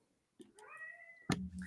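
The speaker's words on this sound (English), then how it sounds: "These cats." A house cat meows close by, one drawn-out rising meow followed by a shorter sharp second meow, loud and clear against a quiet room.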